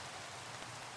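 Steady rain in Minecraft, a broad continuous hiss of falling water filling the whole second at an even, moderate level with no talk over it.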